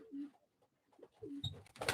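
Soft coos from pigeons at a live pigeon auction come in a couple of low, rounded calls, faint and close, with light rustling and a brief chirp near the end.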